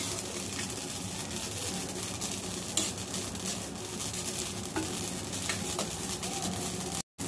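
Khichdi ingredients roasting and being stirred in a pan outdoors, with a continuous sizzle and scraping stir sounds, steady and fairly loud, with a short silent break near the end.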